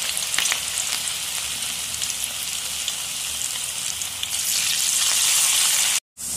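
Yam pieces fry in hot oil in a pan as curry leaves are added, giving a dense, continuous close sizzle that swells louder near the end before cutting off briefly.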